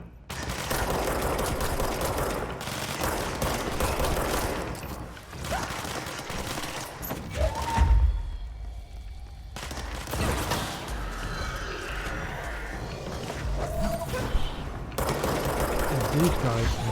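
Bursts of gunfire fill a firefight in the PC game Control, rapid shots layered over game effects and continuing through most of the stretch, with a brief lull midway.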